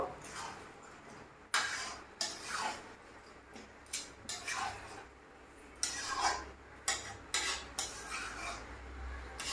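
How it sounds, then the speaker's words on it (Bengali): Metal utensil scraping and clinking against a pan in repeated bursts as chicken is stirred with spices, with a faint sizzle underneath and no voices. "এখানে আমি চিকেনটাকে এইভাবে মশলার সাথে একটু কষিয়ে নেব।"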